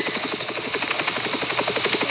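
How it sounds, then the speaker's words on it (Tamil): A helicopter in the Roblox video game gives off a steady, close, buzzing rotor chop with a fast regular pulse, loud and alone throughout. "ஹெலிகாப்டர் சத்தம் கேட்குது."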